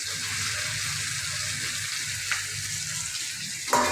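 Potatoes frying in hot oil, a steady close sizzle that runs throughout with a couple of brief stirring knocks near the end.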